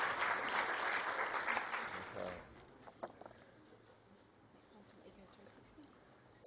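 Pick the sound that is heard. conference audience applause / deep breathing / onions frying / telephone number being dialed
conference audience applause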